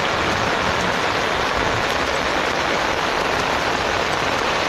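Heavy rain pours down steadily in Maceió, a loud, dense hiss that does not let up, with no voices.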